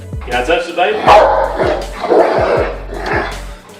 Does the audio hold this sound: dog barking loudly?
yes